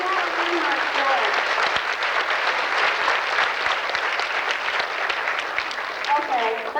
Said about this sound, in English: Give us a big round of applause for the Seattle Landmark Board.